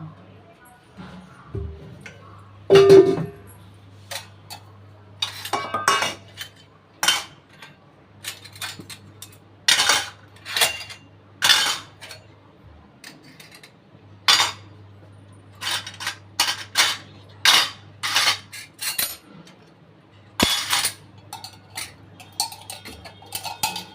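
Kitchen utensils being put away on a stand in a home kitchen: scattered light clinks and clatters, some sharp and close, with someone talking over them throughout.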